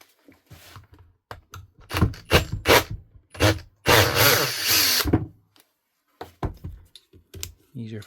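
A Hikoki DH40MEY2 hammer drill fires in short bursts and one longer run, starting and stopping repeatedly with clicks and handling noise between.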